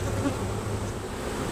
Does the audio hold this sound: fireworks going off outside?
no